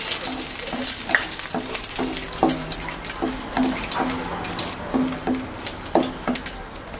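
Bay leaves and dried red chilies crackle and sizzle loudly in hot oil while being cooked for a Bengali hilsa-head kochu shak. The frying runs continuously, broken by repeated utensil clinks and scrapes, and no one speaks.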